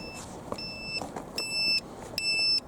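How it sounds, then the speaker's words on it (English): Repeated high electronic beeps from a car indicator, each lasting under half a second, over a steady low rumble of road and engine noise. "on a single indicator, we do get a beep"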